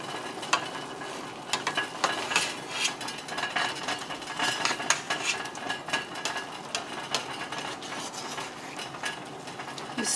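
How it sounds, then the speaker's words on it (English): Broccoli and teriyaki chicken being stirred in a pan, a steady sizzle with repeated scraping, clacking strokes of a utensil against the pan, close up. "Now back to the broccoli. The broccoli is still not fully cooked, but we're now gonna mix it up together."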